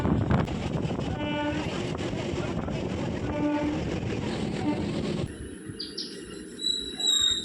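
A crowded, late-running train near Kanchrapara station travels in the rain with a continuous rumble and clatter and short tonal horn blasts, then quieter rolling noise punctuated by higher whistling tones.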